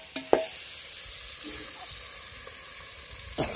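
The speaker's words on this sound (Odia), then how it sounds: "ଦେଶୀ ଚିକେନ ରନ୍ଧା ହେଉଛି" Desi chicken curry frying in a pot over an outdoor clay stove, a constant close sizzle with a sharp clank and scrape of a ladle at the start and another stir near the end.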